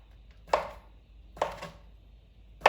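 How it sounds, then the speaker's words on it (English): A knife cutting turkey sausage into julienne strips on a board, three sharp, separate chops spaced about a second apart, close and clear against near silence. "First, I'm going to start cutting up the sausage. Let's cut it in julienne."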